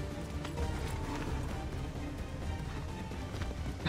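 Rapid rhythmic hoofbeats of a galloping horse in the video game Assassin's Creed III, steady and fairly close, continuing throughout without talk.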